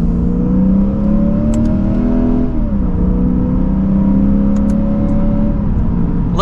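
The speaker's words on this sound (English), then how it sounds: "you can't get over how that V8 sounds in this car" 2024 Lexus IS 500 F Sport V8 accelerating in second gear in Sport Plus mode, its loud engine drone rising steadily in pitch, dropping at a gearshift and then climbing again before another shift, with a steady road roar beneath and no talk.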